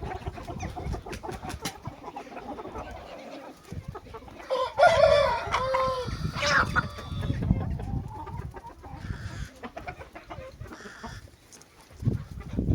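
Chickens cluck and chatter nearby, with a rooster crowing loudly midway through and other farm birds calling in the background.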